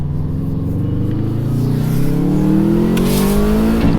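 Subaru WRX engine revving hard and climbing steadily in pitch as it accelerates, loud and close, with a faint hiss near the end and no talking.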